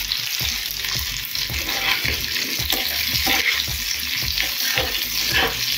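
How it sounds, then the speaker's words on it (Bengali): Tomato, capsicum and onion fry together in a pan for chicken do pyaza, a steady close sizzle with repeated stirring scrapes and a faint trickle of water in the background. "টমেটোটা একটু ফ্রাই হওয়ার পর দিয়ে দেবো ক্যাপসিকাম আর পেঁয়াজ।"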